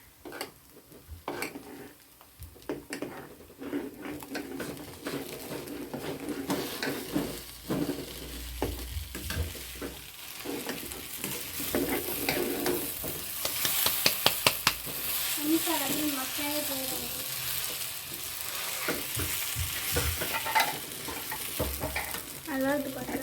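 Ground spice paste dropped into a hot pan for a potato fry, bursting into loud sizzling and spattering while a spoon stirs and scrapes against the pan, with a person talking at times.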